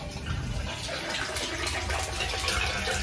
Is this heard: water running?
yes